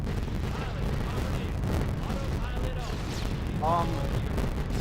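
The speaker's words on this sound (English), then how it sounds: "Did they just explode a bomb out of the air?" Airborne bomb bursting during a B-17 bomber mission in a WWII flight game, a dull rumbling blast spread through continuous engine drone and battle noise, with radio chatter and talk over it.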